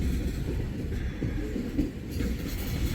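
A loaded Wheeling & Lake Erie freight train rolls past, a continuous heavy low rumble with rhythmic wheel clatter over the rails, steady and fairly close.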